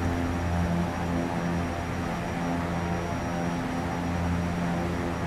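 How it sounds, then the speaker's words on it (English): Steady propeller drone of an EMB 110 aircraft in flight in the X-Plane 11 flight simulator, a constant humming engine roar with a faint high whine, unbroken and alone throughout. "I love the sounds of this plane."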